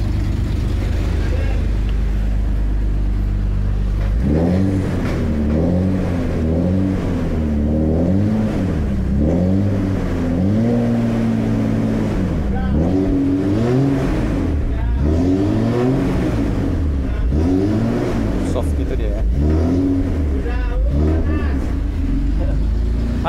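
A Toyota Crown engine with its exhaust revs repeatedly, loud and close, each throttle blip swelling and falling after a steady idle at the start.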